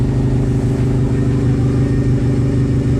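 A warmed-up Acura Integra fitted with a PLM big tube header idles close by, a steady deep rumbling drone with an even pulsing throb and no revving or voices.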